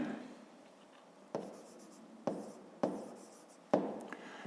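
A pen writes out a fifth-grade math solution on paper, producing soft continuous scratching broken by several sharp taps at irregular intervals, close and quiet, with no voices.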